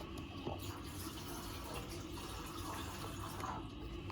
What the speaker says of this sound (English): I just poured some jet fuel.